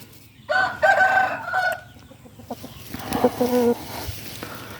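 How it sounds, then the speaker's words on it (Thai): Crossbred breeding rooster with golden plumage and a bright red face crows twice, close and loud, each call a drawn-out cock-a-doodle-doo, with faint clucking and farmyard background between them. "นี่คือไก่ผสมนะครับ พ่อพันธุ์นะครับ"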